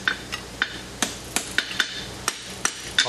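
Sharp, ringing hammer blows strike hot steel on an anvil while forging a pair of blacksmith tongs from quarter-inch stock, about a dozen close, fairly regular strikes with no voices.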